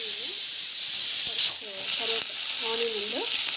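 Onion fries in a pan with a steady, bright hiss and sizzle, while a voice speaks intermittently over it at close range.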